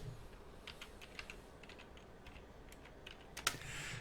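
Light, quick clicking on a computer keyboard while entering vendor details into accounting software, a steady close patter of keystrokes ending with one sharper tap, with no voice over it.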